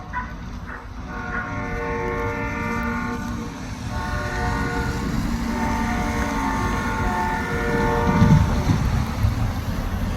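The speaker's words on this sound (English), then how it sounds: "Train getting ready to go to Thompson." Hudson Bay Railway train with locomotives 6004 and 3078 leaving The Pas for Thompson in November, its horn sounding in long repeated blasts over a rumbling engine idle and rolling noise, fairly close and loud.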